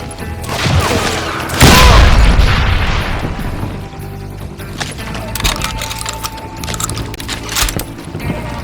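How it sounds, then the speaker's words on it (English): Gunfire rings out in a street shootout in the Call of Juarez Gunslinger video game, with a heavy booming blast followed by scattered sharp shots and cracks under a game soundtrack. "Shooting in the street!"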